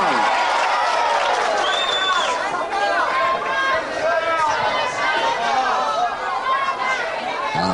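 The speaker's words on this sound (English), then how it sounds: "the crowd here at Woking really screaming for disqualification now" Boxing crowd at Woking screaming and roaring continuously during a final round, a dense loud wall of shouting voices and chatter with whistles rising through it.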